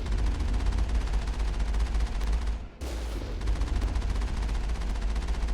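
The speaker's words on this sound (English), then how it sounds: "I like the Pyjack shooting." Sustained automatic gunfire rattles in dense, fast streams while shooting pyjacks in Mass Effect, with a brief pause near the middle before the firing resumes, close and loud.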